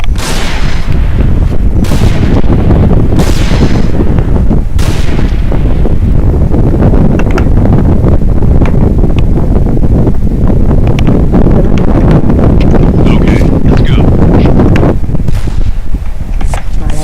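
Strong wind roars loudly and continuously through a sniper video game, with sharp gunshot-like bursts cracking over the rushing gusts, and no voices.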